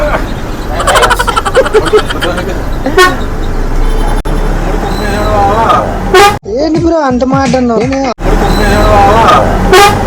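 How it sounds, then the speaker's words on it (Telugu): Heavy festival-season traffic on a busy highway, with repeated loud car and bus horns honking in quick bursts over a constant road rumble, while people talk nearby. "పండగ సీజన్ కాబట్టి ట్రాఫిక్ ఫుల్గానే ఉంది"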